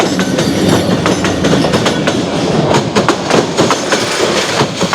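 Train rolling along the British-era railway line through Lawachara forest, with steady rumbling and repeated clickety-clack of wheels over rail joints, loud and close throughout.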